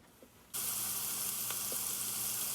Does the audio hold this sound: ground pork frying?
yes